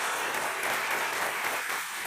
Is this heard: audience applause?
yes